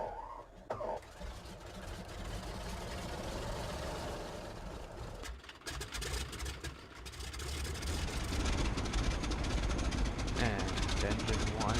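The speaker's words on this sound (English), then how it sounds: "Ignition master is on. Engine start." Douglas C-47 Skytrain radial engine starting in a flight simulator, cranking up into a steady low rumble that grows louder toward the end, with someone talking over it.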